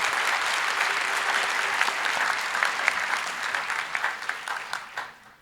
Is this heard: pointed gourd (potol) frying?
no